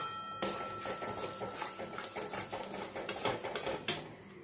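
A thick Kashmiri red chili spice paste is stirred in a pan with steady scraping and soft clinks of a spoon, fairly quiet, with faint sizzling underneath.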